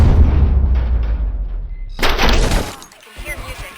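Gunfire in the RoboCop: City Done Gone Rogue video game: a heavy booming burst fades out, then a second loud, sharp report cracks out about halfway through and quickly dies away.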